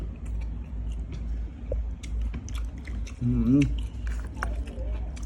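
Crunchy chewing of a fresh Thai shrimp salad with young leucaena shoots close to the mic, with wet bites and a brief hum of voice over steady background noise.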